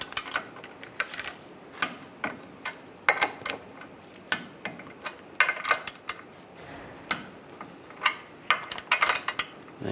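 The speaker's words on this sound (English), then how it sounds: "you can torque these to 15 foot-pounds and then an additional 90 degrees" A torque wrench tightens strut bolts on a 1998-2010 Volkswagen Beetle, giving a steady run of sharp ratcheting clicks close by, uneven in rhythm, with no voices.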